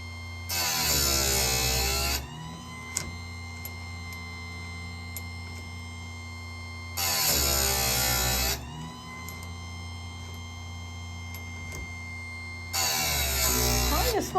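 An electric chainsaw sharpener grinding in three loud bursts of roughly two seconds each, separated by longer quiet stretches with a faint steady hum, recorded close up.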